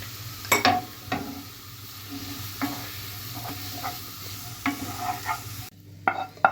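Grated carrots sautéed with a little salt in a pan, a soft continuous sizzle under repeated spatula scrapes and taps against the pan, close and fairly even, briefly dropping near the end before a few more stirs.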